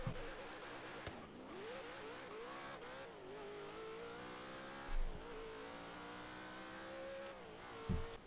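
Cleetus McFarland's Leroy, a 2000 hp drag car in Forza Horizon 3, roars through a quarter-mile run, its engine note climbing steadily through repeated gear shifts, loud and continuous with no talking.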